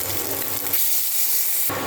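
Spices and tempering sizzle in hot oil in a pan after fish were fried, for a rui fish curry; a loud, steady hissing crackle, close and continuous, with no voices.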